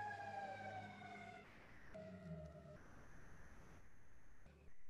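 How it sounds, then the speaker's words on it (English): A fire truck siren wails in the distance during a quiet yoga class, its rising and falling tones carrying faintly through the room for several seconds. "There's a siren in the background."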